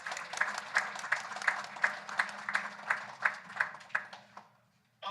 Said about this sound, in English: How about a big round of applause for our donors?